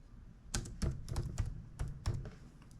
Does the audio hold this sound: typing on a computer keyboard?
yes